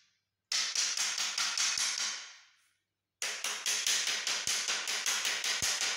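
Hammer blows drive a fastener into wood for a tray structure: two rapid runs of sharp, evenly spaced strikes, close and loud, separated by a brief pause, with no talking.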